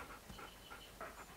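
A dog pants in quick, soft, regular breaths in the video game Far Cry Primal, faint and steady, with no voices.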